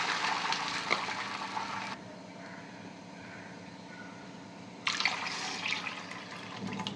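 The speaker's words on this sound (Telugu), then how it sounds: "దీంతో 2 కప్పుల వాటర్ పోసుకున్నాను నేను." Two cups of water pour into a cooking pan for wheat rava upma, heard as two splashy gushes separated by a quieter pause, close by with no talking.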